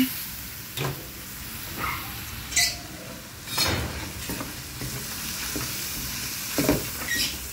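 Mushrooms dropped into a pan for tube-noodle spaghetti set off a low continuous sizzle, punctuated by several sharp clinks and scrapes of a spoon stirring, moderately quiet.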